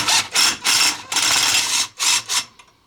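A 3/8 socket wrench ratchets on a clutch lock nut during a QSC primary clutch install on a RZR, with several bursts of close, loud clicking separated by brief pauses.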